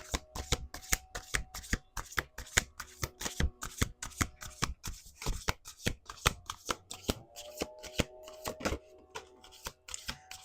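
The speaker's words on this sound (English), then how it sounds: "Let's do 2 more shuffles." Tarot cards being shuffled by hand, a rapid series of crisp riffling slaps and soft flutters in quick bursts, close up and fairly quiet, with no talking.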